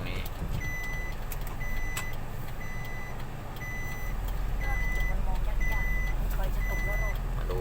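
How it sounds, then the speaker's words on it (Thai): A dump truck reverses to tip its load of soil, sending out a regular series of high reversing beeps over a steady diesel engine rumble, while a voice talks in the background. "สาวนุ่นถอยรถเทดินกัน"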